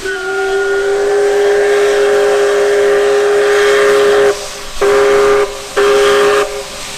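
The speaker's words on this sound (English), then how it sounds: "2816 visibly pulls out of the yard at around 8 a.m. and then starts slowly cruising out of the yard in Bensenville" Canadian Pacific 2816, an H-1b Hudson steam locomotive, sounds a loud, sustained steam whistle while pulling slowly out of the yard in Bensenville, with a steady hiss beneath; the whistle cuts off in two brief gaps near the end.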